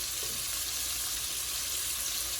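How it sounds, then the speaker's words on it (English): Chicken tenders, coated in a spicy Louisiana-style batter, fry in hot oil with a steady, dense sizzle that stays close and even from start to finish, with no talking. "So I'm going to fry these a few minutes"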